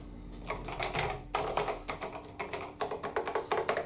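Keys on a Commodore C64U keyboard are pressed in quick clusters of sharp plastic clicks and taps, close and fairly loud, with brief pauses between bursts.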